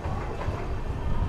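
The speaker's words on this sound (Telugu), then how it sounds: "మన ట్రైన్ వచ్చేసి తిరుపూర్ నుంచి అయితే బయలుదేరిపోయింది" Train pulling out of Tirupur railway station, a steady close rumble of rolling carriages with faint clatter of wheels on track, continuous and moderately loud with no voices.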